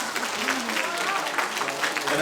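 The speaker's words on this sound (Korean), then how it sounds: "하나님께 박수!" Children and congregation at a Sunday elementary worship service in a church clap together, a dense, steady round of applause lasting the whole moment.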